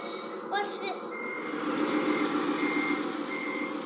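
A steady rumbling engine drones throughout while a high reversing beep sounds a few times at regular intervals, faint over the motor noise, from a radio-controlled Volvo A40G articulated dump truck.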